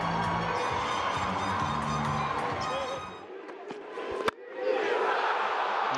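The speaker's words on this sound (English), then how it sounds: "the crowd are pretty happy" A cricket crowd at a Windies vs England one-day international roars and whoops loudly, then dips briefly, a sharp crack punctuates it, and the cheering swells back up.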